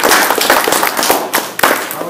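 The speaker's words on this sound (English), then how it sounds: "give yourselves a round of applause for that" An audience at a Mazda dealer training session in Chicago for the 2017 CX-5 gives a burst of applause. The clapping is loud, close and dense, with sharp individual claps standing out in a brief stretch.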